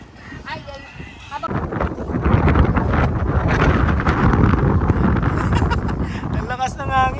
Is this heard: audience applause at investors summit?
no